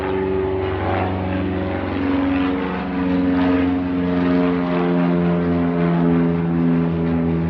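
Propeller of a small reconnaissance drone airplane, droning continuously and loudly with a steady engine hum and a strong buzzing tone that holds throughout.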